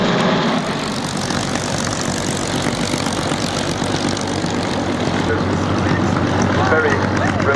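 Aerostars aerobatic propeller planes flying at an airshow, a steady loud engine drone with a constant low hum, holding throughout.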